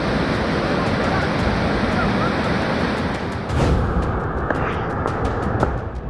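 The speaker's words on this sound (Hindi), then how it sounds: "जंगलों के बीच पहाड़ी के ऊपर पानी का तेज बहाव नीचे की तरफ आ रहा है।" A flash flood torrent rushes down a forested hillside in Baramulla, Jammu and Kashmir, after a cloudburst. It makes a loud, continuous roar of churning water, with a brief surge midway.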